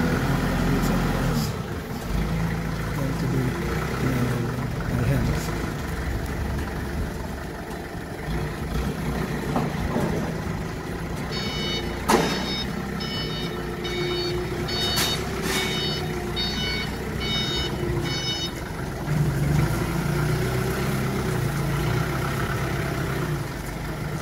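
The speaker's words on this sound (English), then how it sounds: "So we got to use the forklift." Forklift engine idling with a mid-pitched steady drone while a series of evenly spaced reversing beeps sounds in the middle, on a building site moving scaffolding at Daru Island.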